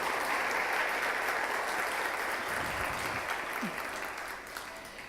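Church congregation applauding after a Spanish-language sermon, a broad steady wash of clapping that fills the room and slowly tapers off toward the end.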